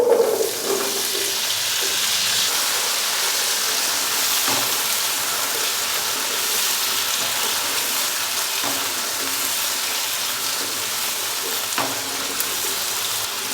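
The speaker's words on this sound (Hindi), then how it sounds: "हम आलू डाल देंगे। तो आलूओं को भी हल्का सा फ्राई कर लेंगे।" Potatoes sizzle in hot cooking oil in a kadai for an aloo gobi gravy, a steady, close, dense frying hiss that holds evenly throughout with no talking.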